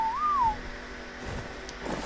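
A single rising-then-falling whistle command from the player in ARK: Survival Evolved, fairly clear at the start, followed by quiet game ambience and a few soft noises.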